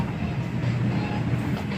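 A Las Vegas tram running between Aria and Bellagio hums and rumbles steadily from inside the car, with a continuous low rolling drone.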